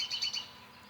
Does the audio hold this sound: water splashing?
no